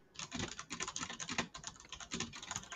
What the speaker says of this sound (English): I can hear his keyboard. Click, click, click.